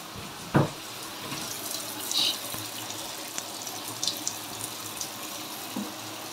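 Shower water runs in a home bathroom as a steady, close hiss of spray, with a few brief knocks and splashes over it.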